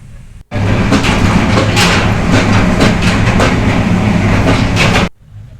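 A passenger train runs on Bangladeshi rails, heard loud and close from inside a coach, a steady rumbling roar with rhythmic clickety-clack of wheels over rail joints, cutting in and out sharply.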